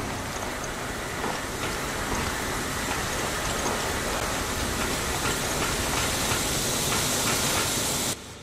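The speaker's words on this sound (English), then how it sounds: "Looks like we found the engine room." Steady hissing and rumbling machinery in the engine room of the video game Resident Evil: Revelations, a loud continuous wash of noise that cuts off abruptly near the end.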